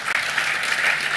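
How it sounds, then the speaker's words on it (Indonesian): A church congregation claps together in steady, dense applause that fills the whole brief moment, loud and even with no voice over it. "Tepuk tangan buat Tuhan Yesus"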